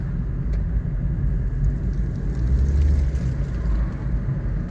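Small Nissan Versa car with a CVT, engine running smoothly while driving: a steady low rumble of engine and road noise holds evenly throughout, with no voices.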